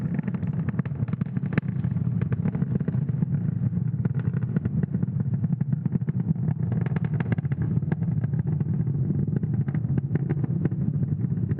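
A SpaceX Falcon 9 rocket climbs through the atmosphere on a launch carrying Starlink satellites, heard as a constant, loud, deep roaring rumble with crackle that stays steady from start to finish.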